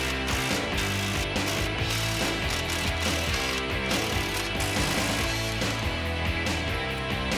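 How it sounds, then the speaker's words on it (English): A socket wrench and 18mm socket ratchet out the lower shock bolt on a Jeep Wrangler JK. Steady, rapid clicking continues close up throughout. "Using an 18mm socket and wrench, we can remove our lower shock bolt."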